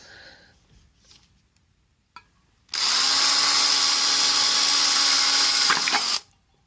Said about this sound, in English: Now I'm just going to use a drill to drill a wee hole in it